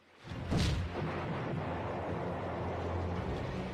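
A single booming cannon shot erupts in the video game Cossacks: European Wars, followed by a sustained low rumble and roar that lingers loudly to the end.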